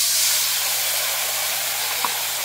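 Water poured into a pan of frying onion, ginger and garlic masala for a potol kosha curry, producing a loud, steady steamy hiss and sizzle with a tiny clink near the end.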